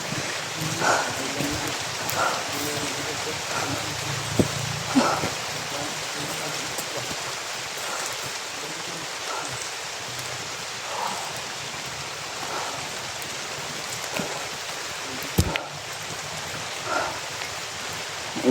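Rain falls outdoors in a steady, even hiss, with occasional louder drips and taps standing out against the constant wash.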